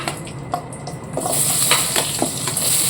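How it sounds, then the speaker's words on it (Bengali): Onions frying in oil in a pan, with a continuous sizzle that grows louder partway through, along with scattered clinks and scrapes of stirring. There is no talk. "এবার পেঁয়াজগুলো ভেজে নেব।"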